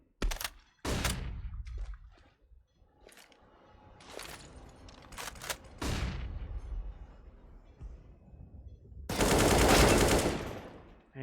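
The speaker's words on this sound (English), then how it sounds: "Locke taking him down with the AWP" Gunfire from the Counter-Strike video game, including an AWP sniper rifle shot: sharp, loud reports scattered through the clip, ending in a dense burst of shooting near the end, with faint game sounds between the shots.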